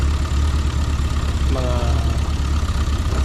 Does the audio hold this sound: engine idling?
yes